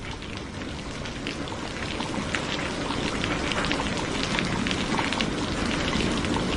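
Steady heavy rain pours down, a dense continuous hiss with pattering drops on surfaces, no voices.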